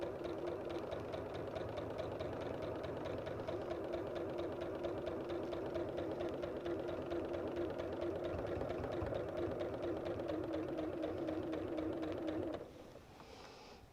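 A quilting sewing machine runs steadily over fabric for about twelve seconds, a loud, continuous mechanical hum with rapid rhythmic stitching, then stops abruptly, leaving quieter room noise.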